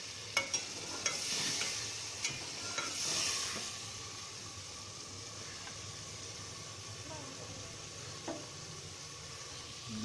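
Potatoes fry and are stirred in a pan of vermicelli, with a low continuous sizzle, soft hiss and several sharp clinks of a utensil against the pan, fairly quiet and close.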